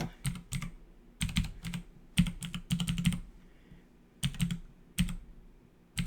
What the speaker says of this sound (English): type Wall Street bets in here